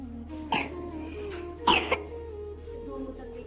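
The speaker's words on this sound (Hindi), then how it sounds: "इसको खांसी हो गई" Two distinct coughs from a woman riding in an Ertiga on a family road trip, the first short and the second a louder double burst, set against steady low car cabin hum.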